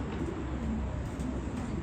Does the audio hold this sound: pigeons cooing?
yes